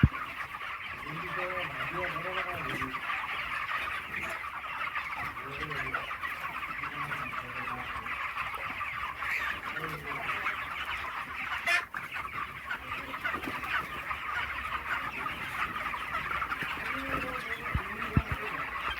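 Broiler chickens clucking on a poultry farm, a steady chorus of soft clucks and calls filling the background at moderate level throughout, with a person talking over it.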